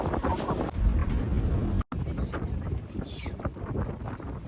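Strong wind buffets a sailboat motoring at night, with gusty roaring and rushing water around the hull, noisy and continuous.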